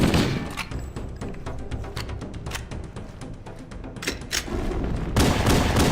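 Hand cannon pistol shots in classic Halo: Combat Evolved, a rapid string of sharp cracking reports in quick succession, loud and close, ending in a heavier burst.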